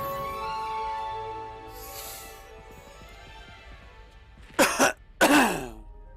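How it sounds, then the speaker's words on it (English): A person near the microphone clears their throat and then coughs twice in quick, loud bursts, over quiet game music from Hogwarts Legacy. "Sorry, coughing in your face like that."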